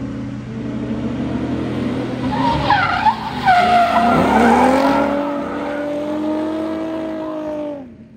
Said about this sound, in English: They set up some spotters so they could do a little bit of drifting on a couple of the corners